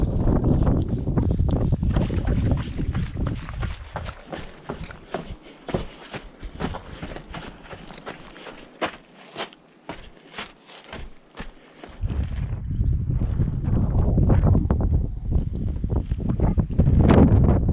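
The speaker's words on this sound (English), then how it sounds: "Little windy on the bridge." Strong wind buffets the microphone on a suspension bridge over the Grand Canyon, a roaring rush that eases into gusty rustling mid-way, then swells loud again.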